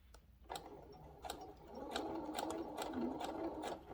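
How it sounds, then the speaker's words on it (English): Sewing machine running a straight stitch through cotton and vinyl fabric: a quiet, steady mechanical hum with regular needle ticks, speeding up slightly partway through, with no talking. "we're going to create a straight stitch like we've been doing for this whole project"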